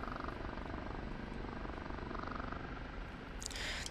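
A Bell OH-58 Kiowa helicopter in the flight simulator DCS drones with a steady, muffled rotor and engine rumble, sustained and even, and a brief brighter hiss near the end, with no voices.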